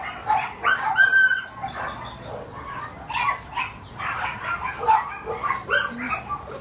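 A skinny rescue dog vocalizes in short repeated barks and yips, with some whimpering, fairly close and moderately loud against a noisy indoor background, with scattered bird-like chirps.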